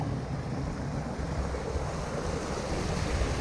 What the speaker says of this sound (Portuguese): E aí tem essa válvula aqui que fica jorrando água